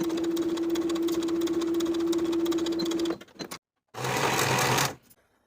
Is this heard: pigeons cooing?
no